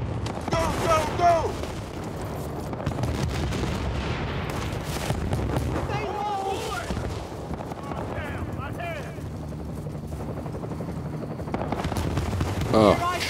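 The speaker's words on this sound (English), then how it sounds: "Enemy chopper!" Battlefield: Bad Company combat with an enemy helicopter and gunfire: a steady, loud rotor-like roar runs throughout, overlaid with scattered bursts of shots and explosions, while voices shout over the din.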